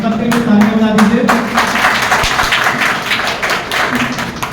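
A crowd claps steadily for several seconds, a dense, loud wash of applause with voices faintly mixed in.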